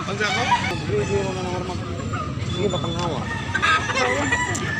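A young stag rooster crows over nearby talk and background chatter, its calls mixing with clucking from other fowl close by.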